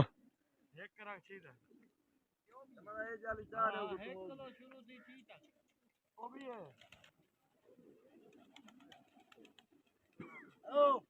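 Pigeons coo in soft, repeated throaty bursts, fairly close and quiet, while someone talks intermittently between the calls.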